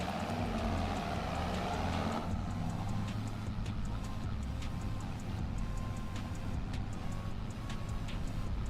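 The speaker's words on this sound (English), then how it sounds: "we're going to use a tractor that is way overpowered for this job" An overpowered tractor engine in Farming Simulator 25 runs steadily with a loud, constant low drone, while a faint regular ticking sounds over it throughout.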